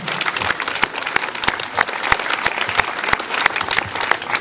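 Steady applause from a crowd, dense clapping filling the whole stretch at an even loudness, close and continuous.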